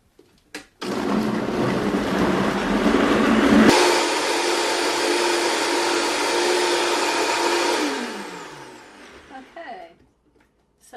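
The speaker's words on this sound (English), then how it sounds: "Anytime I use a high-powered blender or grain mill or anything that makes a lot of noise, I protect my hearing." A high-powered blender whirs loudly while blending Panamanian pepper sauce, its motor starting abruptly, shifting pitch partway through as the contents move, then winding down and stopping near the end.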